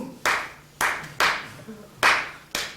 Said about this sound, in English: This is the booty clapping.